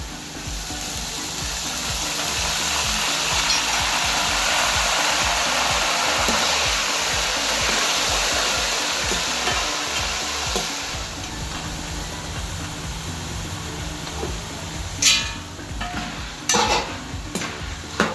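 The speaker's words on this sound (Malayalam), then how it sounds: "ചക്ക നന്നാക്കൽ പരിപാടികൾ അവസാനിച്ച് വറക്കൽ തുടങ്ങിയിട്ടുണ്ട് കേട്ടോ" Pieces of jackfruit fry in hot oil, a close, continuous sizzling hiss that gradually eases, ending with a few sharp clinks of a utensil against the pan.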